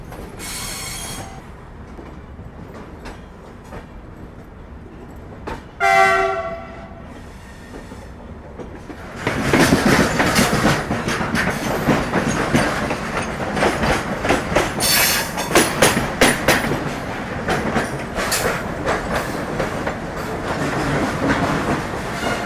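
A passenger train at Ambala station, its cars rolling past with loud clattering wheels and squeals, begins after a quiet stretch broken by a brief tonal horn-like blast, then carries on steadily and close.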